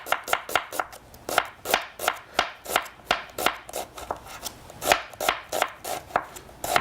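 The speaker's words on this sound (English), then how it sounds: "just an onion. We're going to julienne," A knife chops an onion into julienne strips on a board while preparing a rustic tomato soup: a steady, quick run of crisp cuts, close and fairly loud, with no talking.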